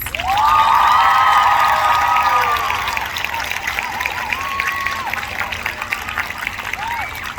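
Loud audience applause with cheers and whoops fills a school Flag Day ceremony as a student speaker is welcomed, peaking at first and then easing into steadier clapping with scattered shouts.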